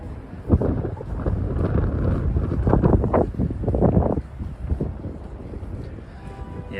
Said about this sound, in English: it's windy out tonight